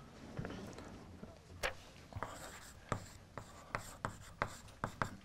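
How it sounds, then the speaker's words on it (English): Handwritten pen strokes on paper, a series of short scratchy marks with brief pauses between them, close and fairly quiet, with no voices. "let me write it down."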